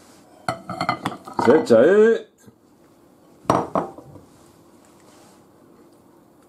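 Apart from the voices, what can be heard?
mixing moje murciano salad with onion in a bowl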